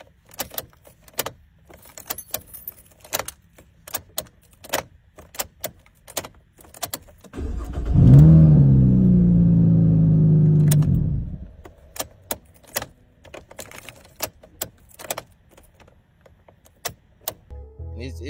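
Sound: car key stuck in a 2015 Camaro ignition being pulled

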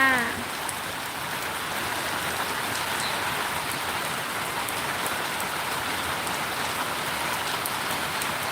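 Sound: light rain falling

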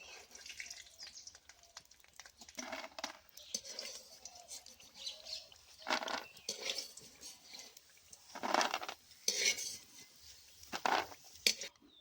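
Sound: lifting fried lentil dumplings (bori) out of the pan

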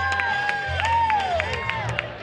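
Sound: audience applause and cheering for costume contest group

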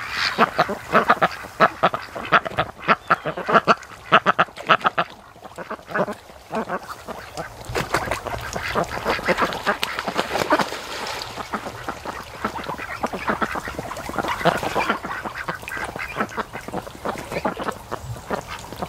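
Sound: ducks quacking while mating at a lake

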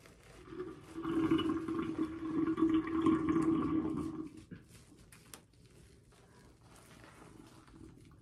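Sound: sink draining

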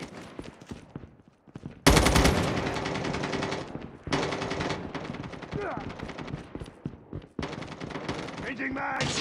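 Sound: gunfire in the video game Call of Duty Mobile

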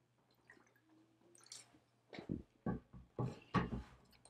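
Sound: sipping a little water

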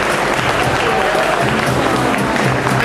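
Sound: audience applause at a cosplay contest

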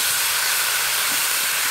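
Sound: lamb frying in a pan

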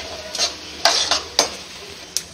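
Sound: roasting chana dal and urad dal in a pan

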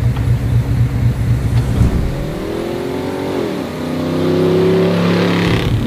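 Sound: racing jeep engine starting off for a ride

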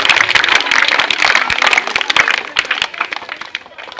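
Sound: applause by schoolchildren thanking a guest

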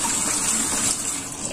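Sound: washing seaweed by hand in water

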